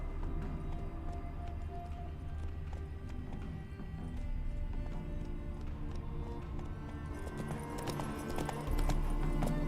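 Horse galloping in The Witcher 3: Wild Hunt – Blood and Wine, a steady fast clip-clop of hooves on the ground over a low rumbling game backdrop, continuous and fairly close, slightly louder at the end.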